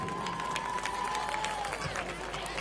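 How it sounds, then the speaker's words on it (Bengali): An audience claps and cheers at a live stage program with Kanchan Mallick, producing a steady, dense wash of applause that holds at an even level throughout, with a faint tone running beneath. "হাততালি।"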